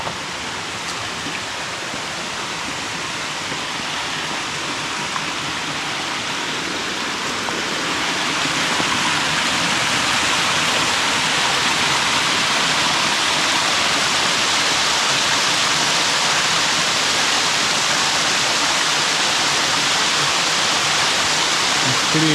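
A big waterfall roars as a steady, dense wash of falling water, close and continuous, growing louder and fuller partway through as the approach nears.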